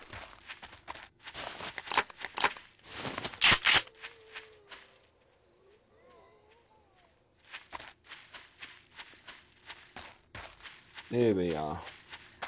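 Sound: footsteps in 7 Days To Die video game

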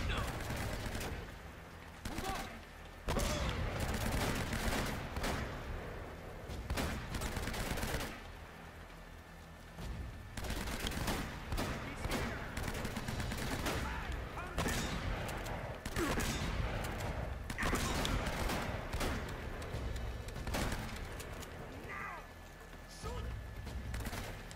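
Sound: shotgun gunfire in the video game Uncharted

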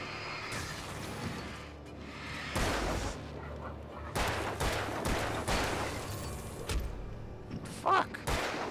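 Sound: gunfire in Alan Wake video game

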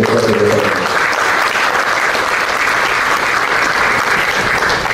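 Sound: audience applause for debate panelists

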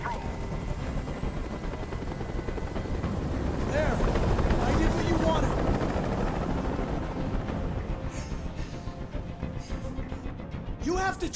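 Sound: helicopter flying overhead

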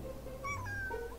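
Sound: cat meowing

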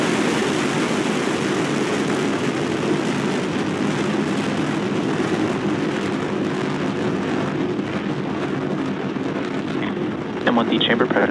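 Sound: SpaceX rocket engines roaring at ignition and liftoff

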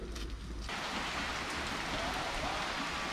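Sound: rain arriving

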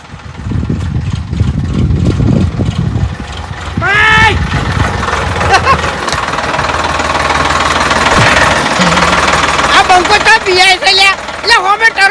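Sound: tractor engine running

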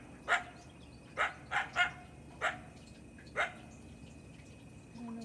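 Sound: coyote barking

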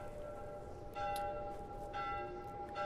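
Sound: church bell tower ringing in The Last of Us video game

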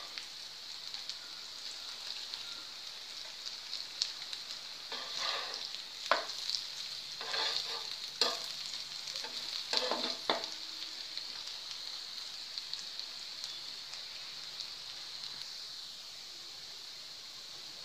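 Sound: cabbage vadi shallow frying in pan

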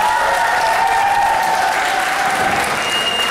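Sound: audience applause at a concert

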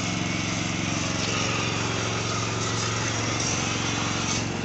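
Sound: Caterpillar V12 generator engine running

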